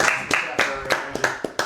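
A few people clapping in sparse, uneven bursts, roughly six sharp claps spread over a moment, close and fairly loud, with no crowd wash behind them.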